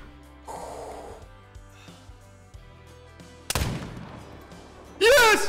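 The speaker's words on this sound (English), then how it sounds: "Oh, what a shot!" A single sharp, loud muzzleloader rifle shot fired at a deer in the hunting game Call of the Wild, set at Cuatro Colinas, rings out past the midpoint over quiet ambient game sounds, followed by a loud blurted reaction.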